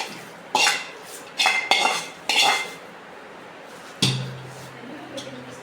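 Metal spoon scraping and clanking against a cooking pot as rice is added to fried onions for a bachelor-style biryani, several sharp clatters close up with brief gaps between them.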